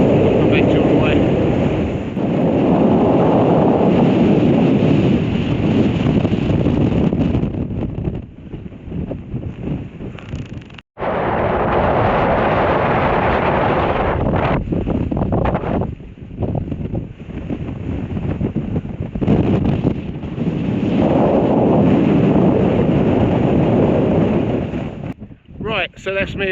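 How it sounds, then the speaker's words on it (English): Strong wind roars across the mountain summit of Beinn Achaladair, buffeting the microphone in loud, gusty surges with a few short lulls over nearly half a minute. "So we're very windy on this bit as well"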